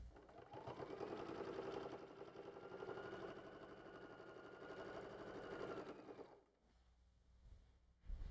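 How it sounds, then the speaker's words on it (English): A sewing machine stitches a 1/4 inch seam across the bottom of a tote lining, running at a fast steady whir with a rattling needle beat for about six seconds before stopping and going quiet. "we'll sew a 1/4 inch seam across the bottom."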